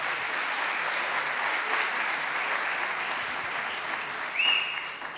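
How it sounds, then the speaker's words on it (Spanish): Audience applause at a public dialogue event on democracy, a steady dense clapping sustained evenly throughout, with a faint high tone near the end. "Me aplauden BOA porque me quieren,"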